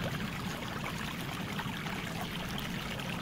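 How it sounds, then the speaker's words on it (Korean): A stream flows at night with a steady, close, broadband rush of water that stays even throughout, with no voices or other sounds. "물소리만 가득한 밤."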